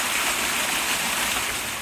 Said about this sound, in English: Final shot of the waterfall.